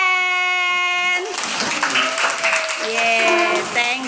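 Children in a first-grade elementary school classroom clap their hands together during an English Day lesson. The clapping is a steady, dense patter that starts after a sustained musical tone and keeps going under light background music.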